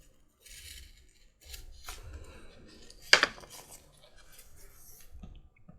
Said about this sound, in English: taking and trimming off the little edges